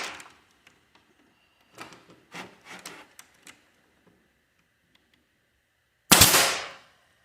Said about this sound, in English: Oh, I love the A5 nail guns, staple guns, whatever.